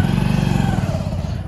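A motorcycle engine idles and pulls away nearby, a loud steady low putter throughout.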